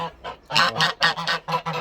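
A black-and-white domestic goose honks repeatedly, about seven loud, nasal calls in quick rhythm, very close and alone.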